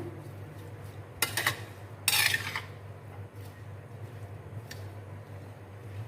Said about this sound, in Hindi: अभी हम सलाद को मिक्स कर लेते हैं